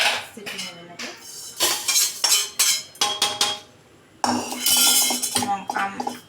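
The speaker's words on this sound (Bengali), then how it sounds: "প্রেসারটা দেখি, প্রেসারটা দিলাম, একটা সিটি মেরে নেব" A pressure cooker of dal is set on the stove with loud, close metallic clanks and clinks of lid and pot in bursts, with a short pause midway.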